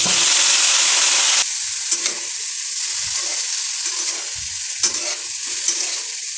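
Chopped bottle gourd hits a pan of lightly fried chopped onions with a loud burst of sizzle, then quieter frying follows, punctuated by repeated spatula scrapes and taps, with no voices.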